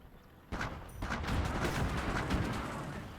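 Tank gun fire in Gates of Hell: Ostfront, a sudden loud blast followed by rumbling explosions and continuing battle noise, with no talking.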